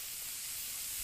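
Sliced mushrooms, garlic and ginger sauté in butter, giving a steady close hiss and sizzle that stays even through the brief moment with no talking.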